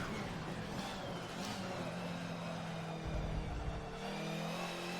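A race car engine in a racing video game drones steadily as the car gets back on the throttle and accelerates around a track, a continuous mid-level engine tone with a brief low thump, with no talk over it.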